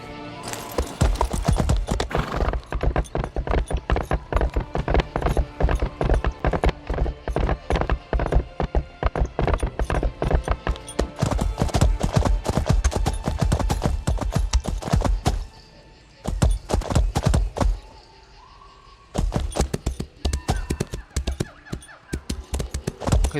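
A horse gallops in Elder Scrolls Online, its rapid, loud hoofbeats pounding in a steady rhythm for most of the stretch, with two short pauses before the galloping resumes.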